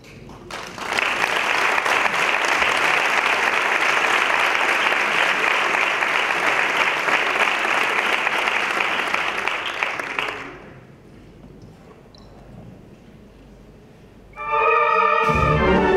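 Concert audience applauds steadily and loudly at a Royal Guard military band performance in La Palma del Condado, the clapping ending abruptly around ten seconds, followed by quiet room tone and then a short burst of music or tones near the end.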